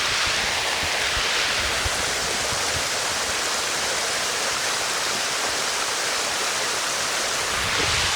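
Mountain spring water on a trail in the Haldukhal area of Uttarakhand, pouring steadily as a bottle is filled, a continuous broadband rush that stays close and fairly loud throughout with no voices.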